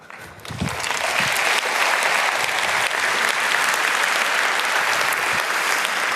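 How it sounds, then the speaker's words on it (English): Audience at a physics lecture on LHC data analysis breaks into sustained, loud applause that fills the room steadily for several seconds after a brief quieter start. "That's not my applause,"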